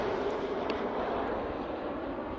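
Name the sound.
jet airplane flying overhead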